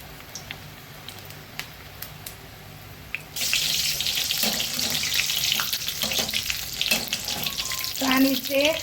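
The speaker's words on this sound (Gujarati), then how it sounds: "તો આપણે ડુંગળીના ભજીયા હવે મસ્ત પાડી લઈશું." Onion tikdi bhajiya batter hits hot oil and breaks into a loud, steady frying sizzle after a quieter start with faint kitchen clatter, crackling on alone with no talk.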